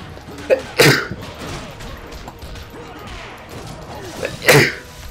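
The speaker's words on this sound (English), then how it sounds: "okay, I sneezed." Two sharp, explosive sneezes, one near the start and another a few seconds later, with quiet background between them.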